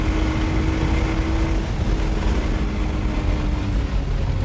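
Race car engine at Sonoma Raceway, a Porsche or Ferrari on a track day, droning loudly and continuously under heavy wind and road roar as it powers through a section, with no talk.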